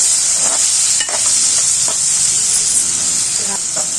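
Dried fish frying in oil for a dry fish and cucumber curry: a continuous loud hissing sizzle close up, with occasional soft scrapes of stirring in the pan.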